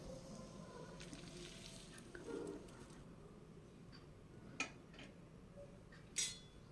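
Coconut paneer simmers slowly in a boiling curry gravy, giving a soft, steady sizzle with light bubbling. A few brief utensil clinks and stirring taps stand out near the end, and no one speaks.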